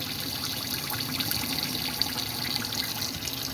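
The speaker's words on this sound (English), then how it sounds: "Hot water coming out the taps." Hot water runs steadily from a caravan tap in a Swift Elegance Grande, a continuous close splashing flow with no talk over it.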